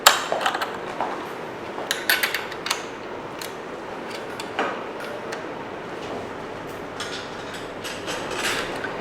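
Screws on a Smartravel DK400 e-bike being tightened with a spanner, with scattered sharp metallic clicks and ticks in irregular bursts, close and moderately loud, with no talking.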